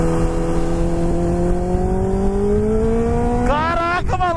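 Kawasaki Ninja H2 motorcycle engine held at a steady high rev, then sharply revved in quick rising blips near the end, loud and close, with a voice audible under it.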